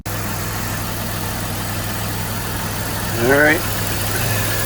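Mopar 3.3 car engine idling steadily just after a tune-up, a continuous low hum close by, with someone briefly speaking over it.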